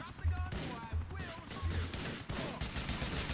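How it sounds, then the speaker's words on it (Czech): Bursts of gunfire from police in a video game: rapid volleys of shots with heavy low thumps, several loud clusters in quick succession, close and dominant throughout. "Odkud po mně střílí?"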